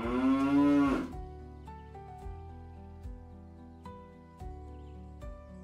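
A cow in a children's cartoon moral story moos once, a loud drawn-out low call, followed by soft background music with light bird chirps.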